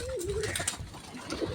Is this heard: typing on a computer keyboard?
no